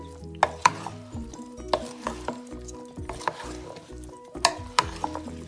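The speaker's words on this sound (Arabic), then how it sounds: "بعدين هنحط الطماطم اخر حاجه، الطماطمتين اللي احنا كنا مقطعينهم شرايح، ونقلب برضو حلو قوي" Onions, vegetables and tomato slices stirred in a pan for an Egyptian meat dish, with a spoon clanking and scraping in a repeated rhythm over a low sizzle. No one speaks.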